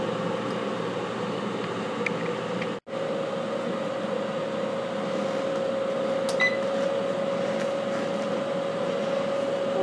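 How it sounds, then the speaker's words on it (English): An air fryer's fan keeps running after the peach-grilling cycle ends, giving a steady whirring hum with a faint tonal whine that carries on evenly, broken only by a momentary dropout. "when the air fryer ends, sometimes the fan still runs in there to cool everything down"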